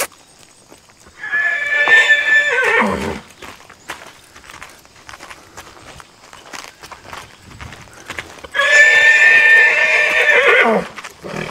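Two long, loud draft horse whinnies from a pasture, separated by several seconds, with hoof clops and rustling in between.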